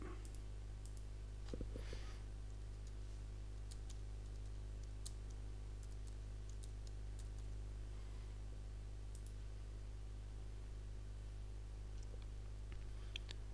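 Typing on a computer keyboard while setting up a Google account, scattered faint key clicks in small irregular bursts over a loud steady electrical hum, with no speech.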